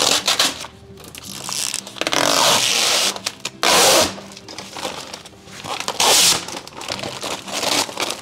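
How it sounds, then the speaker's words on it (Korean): Protective vinyl film is peeled off a 6mm marble panel in a kitchen wall installation, giving bursts of loud crinkling and rasping separated by quieter handling noises. "비닐 한번 벗겨볼까요?"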